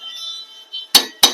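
Two sharp metallic hammer strikes on a bush being fitted into a mixer grinder, close and loud, after a short stretch of faint clinking.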